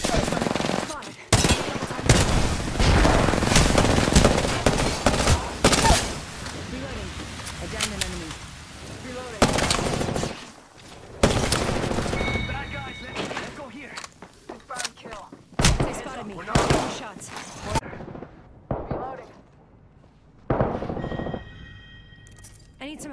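Rapid gunfire crackles through a firefight in the video game Apex Legends, with dense bursts of automatic shots and sharp single cracks coming in clusters, broken by brief pauses and ending in sparser shots.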